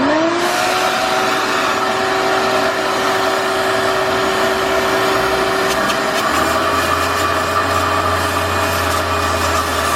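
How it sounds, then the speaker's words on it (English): A vacuum cleaner hums steadily and loud throughout, sucking up metal dust from a tapped bolt hole during a BMW E36 M50 head stud conversion, with a whining tone and a deeper rumble joining near the end. "before tapping it, we're going to vacuum the metal dust"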